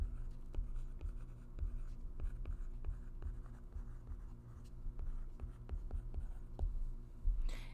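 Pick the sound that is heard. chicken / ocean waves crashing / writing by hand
writing by hand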